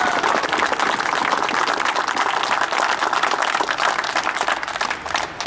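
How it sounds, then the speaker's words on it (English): Sustained applause from an audience at a pistol unveiling event, steady and fairly loud clapping filling the whole stretch, easing slightly toward the end. "give yourselves a round of applause"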